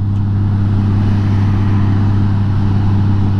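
A Honda Goldwing motorcycle cruising along the road on a chilly day, with a loud, steady engine drone and a deep low hum that stays constant throughout and has no other sounds over it.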